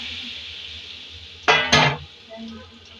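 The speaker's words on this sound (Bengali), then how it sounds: "লঙ্কা ছেড়ে দিয়ে গোলা মশলাটা দিয়ে" Chili and spice paste hit hot oil in a pan with a soft steady sizzle, then two loud bursts of frying as the paste goes in, followed by quieter bubbling and a clink of utensils.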